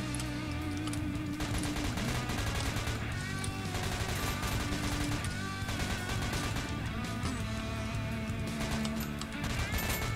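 Rapid gunfire in the Roblox ERLC game, continuous dense bursts of shots and crashes packed together throughout, loud and busy with game audio layered underneath.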